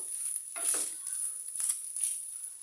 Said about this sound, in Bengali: দুই মিনিটের মতো ভেজে নিব